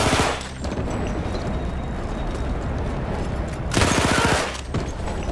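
Sustained gunfire and heavy battle din roar in Battlefield 1, with a dense, continuous barrage and a louder burst of rapid shots near the end.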